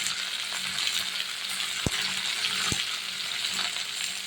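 Shrimp and Malabar spinach frying in a pan with salt and turmeric, sizzling steadily while a spoon gives two sharp clinks against the metal.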